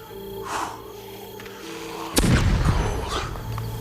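A grenade explodes in a shooting video game with a sharp boom and a rumbling tail, after softer game effects. A minigun is being used in the match.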